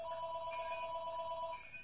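A telephone rings with a steady, bright electronic tone that holds for nearly two seconds and then fades slightly, heard alone with no talking.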